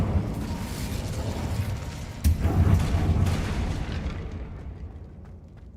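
An Incendio fire spell in a Hogwarts wizarding game bursts with a sudden sharp crack, then a rumbling whoosh swells and slowly fades over several seconds, with no voices.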